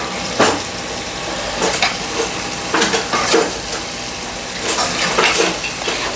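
Chicken popcorn pieces fry in hot oil, giving a loud, continuous close sizzle broken by several sharp bursts of crackling as more pieces are dropped in and stirred.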